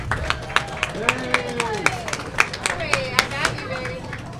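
A school board meeting audience claps for absent students as their names are read, with sparse, uneven hand claps scattered over a murmuring room and faint speech in the background.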